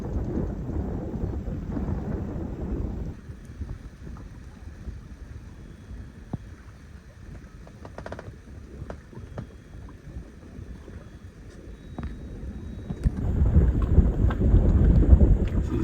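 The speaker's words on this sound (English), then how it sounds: "Bit of a blustery day here in Horseshoe Bay today" Gusty wind on a blustery day at Horseshoe Bay, a sailing anchorage, rumbles loudly across the microphone at the start, eases to a quieter rush in the middle, then surges strong again at the end.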